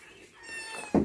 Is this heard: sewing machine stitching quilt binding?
no